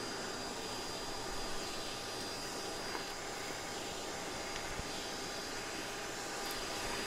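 A vacuum cleaner runs continuously at a ground nest of yellow jacket wasps, a steady loud motor whine and suction roar with no talking.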